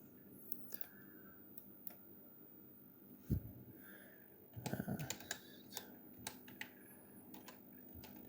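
Quiet, close computer keyboard typing of a password: scattered individual key clicks with a brief cluster of quicker taps midway, in an otherwise still room.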